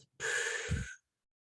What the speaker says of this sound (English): you notice I'm making sounds with my breathing